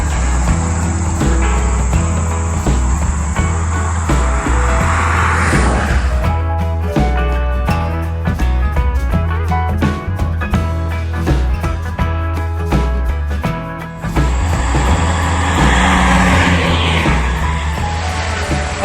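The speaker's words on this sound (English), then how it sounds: "so there's so much traffic here" Road traffic passes near a lakeside campsite at Celina Lake in a national forest. A steady low engine hum runs throughout, two vehicles swell past loudly, and insects buzz faintly in the background.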